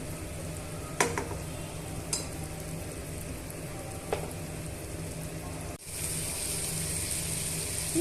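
Brinjal pieces frying in a pan, heard as a continuous close sizzle with a few sharp scraping and clinking stirs and a louder hiss toward the end, with no talking.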